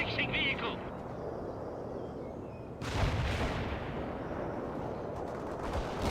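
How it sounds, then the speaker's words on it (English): A missile launch in the World in Conflict strategy game lets out a sudden heavy whoosh and blast partway through, over a steady rumble of distant battle, with a voice speaking early on. "Launch the missile now."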